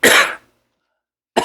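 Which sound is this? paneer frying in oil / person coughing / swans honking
person coughing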